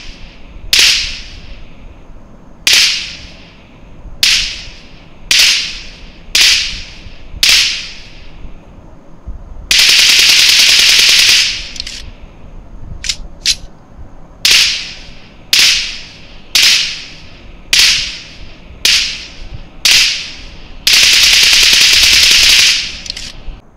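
Gunfire in the mobile battle royale game BGMI, heard as loud, sharp single shots in a steady rhythm broken by two longer bursts of rapid automatic fire, each shot trailing off with a short echo.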